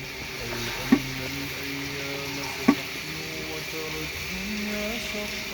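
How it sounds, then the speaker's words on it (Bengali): Hilsa fish and pumpkin curry simmers and sizzles softly in a pan as a spatula stirs it, with two sharp knocks of the utensil against the pan over a low, steady bubbling hiss. "তো তরকারিটা আমি একটু নেড়ে দিই।"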